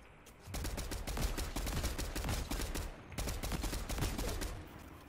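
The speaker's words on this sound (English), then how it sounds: "Oh, we're getting shot at." Fortnite gunfire from a vehicle ride toward the circle: a sustained volley of rapid, crackling shots in two long bursts with a short lull between, loud and dense throughout.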